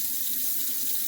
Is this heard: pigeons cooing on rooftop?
no